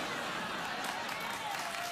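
Studio audience on a late-night talk show breaking into applause, a faint, dense wash of clapping that fills the whole moment at low level.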